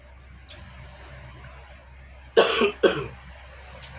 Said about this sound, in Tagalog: Inom tayo ng lemon mga friendships kasi inuubo tayo.